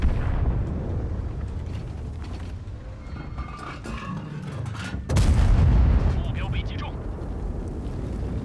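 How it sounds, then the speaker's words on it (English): Tank cannon fire in the World of Tanks video game during a holiday event mode, a heavy boom landing around the five-second mark over continuous battle rumble and engine noise. "you really have to fully aim every single shot with this gun"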